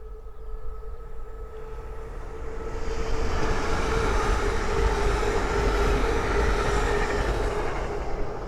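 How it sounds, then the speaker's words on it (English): A Hull Trains class 802 in full livery, running from Beverley to London King's Cross, passes by on the East Coast Main Line at Great Wymondley. Its steady rumble and engine drone build to a loud, sustained roar, with no voices. "the next train to pass by is a Hull Trains 802 from Beverley to London King's Cross"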